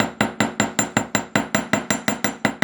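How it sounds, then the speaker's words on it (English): A small hammer strikes a wire petal component for Celtic-style wirework jewellery, flattening its tip: a steady run of about fourteen sharp, close metallic taps at an even quick rhythm, with no talk. "You can see how this hammering at the tip just changes that diameter really nicely"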